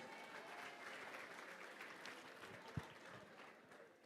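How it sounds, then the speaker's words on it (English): An audience at a livestreamed award event applauds, a fairly faint and steady wash of clapping heard from a distance, with one brief louder knock partway through. "Please, ladies and gentlemen, a round of applause for Zubi, please."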